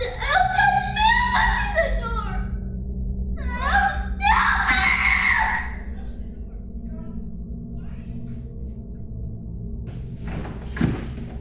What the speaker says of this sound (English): they suddenly heard their son screaming in terror